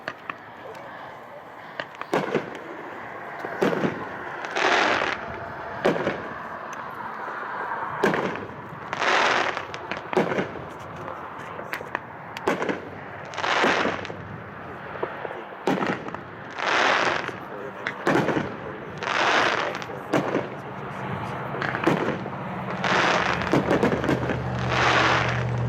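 Repeated firework bursts from a George Washington cake in a Founding Fathers assorted case go off at a demo show, a steady series of loud booms and crackles spaced a second or two apart.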